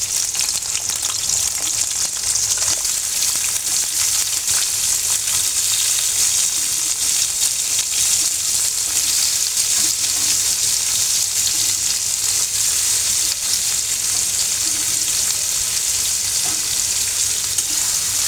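Dried chili, onion and garlic fry in hot oil for a jackfruit seed bharta, giving a loud, steady, close sizzle that holds unbroken throughout with no voices.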